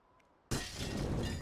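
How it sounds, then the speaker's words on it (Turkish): A pane of glass smashes suddenly in a Counter-Strike esports match, a sharp loud shatter after near silence, followed by a dense spray of tinkling shards and crackling debris that continues to the end. "Cam kırıldı."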